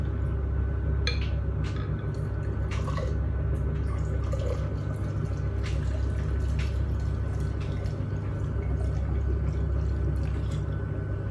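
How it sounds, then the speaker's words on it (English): Wine being poured into a cup, a steady liquid pour with dripping and trickling over a constant low background hum, moderately loud and continuous throughout. "So this is how you pour a glass of wine."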